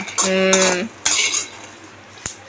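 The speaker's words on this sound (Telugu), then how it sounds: "ఇంకా కొంచెం వేగాలి." A spoon stirs and scrapes a pan of brinjal curry and peanuts frying in oil, with a ringing metallic clink at the start, then soft scraping strokes and a final tap, close and clear with no talk.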